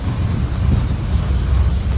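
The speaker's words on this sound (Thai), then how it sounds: "ตอนนี้ก็ฝนตกนะครับ" Steady heavy rain pours with a low rumbling wash beneath it, continuous and loud throughout, heard in a mountain reservoir area of Kanchanaburi with no voices.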